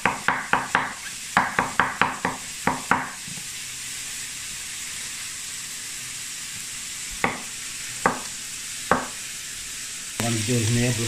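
Onion and garlic hit hot oil in a pan while cooking chicken pasta with mushroom sauce, giving a steady low sizzle under a series of sharp utensil clinks and taps against the pan, with a louder burst of frying near the end.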